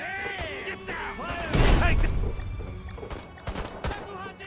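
Rockets fired in the video game Destroy All Humans! 2 remake, a burst of blasting explosions midway through, with game voices and a player speaking around it.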